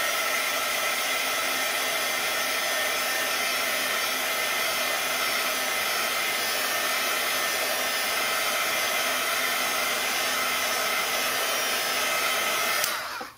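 A hair dryer blowing on a small watercolor flower painting, a loud, steady broadband whoosh held close and unbroken for about thirteen seconds before switching off.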